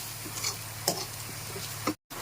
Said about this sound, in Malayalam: ഇത് ചുവന്നുള്ളിയും പച്ചമുളകും തേങ്ങാക്കൊത്തും കൂടാണ് നമ്മുടെ ചെമ്മീൻ കറിക്ക് വരട്ടിയെടുക്കുന്നത്